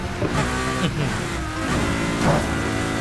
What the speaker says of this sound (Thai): โอ้โหแรงจัดเสียงเปลี่ยนเกียร์เล้าใจมาก